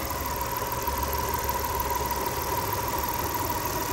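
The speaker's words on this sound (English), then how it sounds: "A 3-liter V6 in all its glory." A 3.0-litre V6 in a 2006 Audi A4 Cabriolet idles under an open hood, a steady, even hum with a faint constant whine, heard close and alone without talk.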